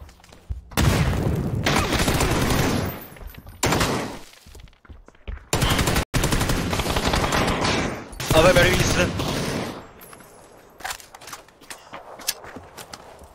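Bursts of M4 rifle gunfire in a shooting video game, with several loud volleys of rapid automatic shots separated by short pauses, then a few sparser, fainter shots and clicks toward the end.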